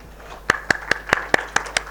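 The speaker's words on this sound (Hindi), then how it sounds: "जोरदार तालियां।" Seven sharp, evenly spaced claps ring out alone in a quiet hall at an art award ceremony, crisp and moderately close, with no crowd applause filling in around them.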